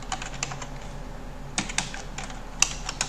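Quick, uneven bursts of keystrokes on a computer keyboard while HTML and CSS code is entered, close and clear with short pauses between runs, no talking.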